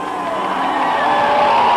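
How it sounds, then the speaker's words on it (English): Large crowd at a NASCAR Cup Series race at Indianapolis roaring and cheering for Jeff Gordon's car as it passes, a steady loud swell that builds slightly over a couple of seconds. "Listen to the crowd as they acknowledge Jeff Gordon when he goes by"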